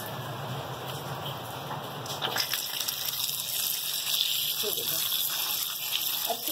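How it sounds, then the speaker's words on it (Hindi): Cold water gushes and splashes over raw liver at a Karachi street food stall as it is rinsed for tawa kaleji. The hiss is steady and close, and it lets up partway through as the surroundings get louder. "अब हम ठंडे पानी से धोएंगे।"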